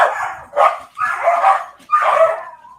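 A dog barks close and loud in four distinct barks with short gaps between them, and no speech is heard.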